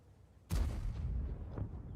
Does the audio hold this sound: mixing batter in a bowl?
no